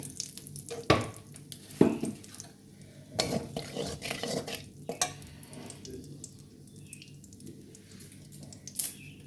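Oil is poured into a cooking pan for a Bengali crab curry and begins to sizzle, mixed with scattered clinks and scrapes of a utensil against the pan, close and moderately quiet with no talk.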